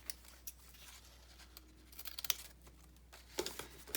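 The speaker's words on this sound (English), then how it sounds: "Just snip that off." Scissors snip off a length of fabric trim for a stash-buster journal, a few quiet close crisp cuts and rustles in an otherwise still room, no voices.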